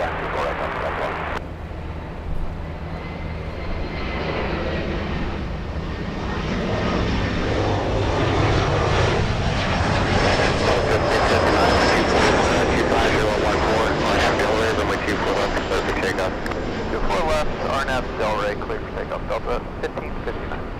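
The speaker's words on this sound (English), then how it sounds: "We have Delta's 1559 taking off 6 minutes late." A Delta airliner takes off at Los Angeles International Airport, its jet engines building into a loud, sustained roar with whooshing wind noise that swells and then holds steady over about twenty seconds.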